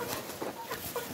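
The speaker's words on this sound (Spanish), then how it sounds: "Miren, toditas las aves van a entrar por el pan que están viendo aquí" Hens clucking in a short, busy burst of overlapping calls as they go into their coop, heard close and fairly soft.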